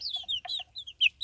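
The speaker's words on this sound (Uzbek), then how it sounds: "Ichiga 13 ta jo'ja solganmiz. Mana sig'ib yuribdi." Young chicks kept in a small coop, giving a quick run of high, thin peeping calls, several short chirps close by in irregular bursts with no talking.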